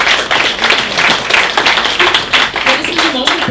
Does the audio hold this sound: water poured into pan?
no